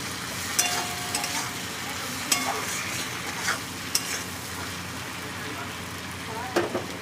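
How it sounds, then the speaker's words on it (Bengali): Ground cumin, ginger and chili paste are stirred in a hot pan for a Bengali ghugni, sizzling steadily while a spoon scrapes and clinks against the metal several times. "একটু নাড়িয়ে দিই।"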